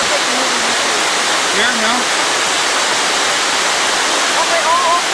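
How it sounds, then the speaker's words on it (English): A waterfall beside an old town square, with a diverted stream, gives a loud, steady broadband rush throughout, and a few brief voices speak over it. "Here's the waterfalls."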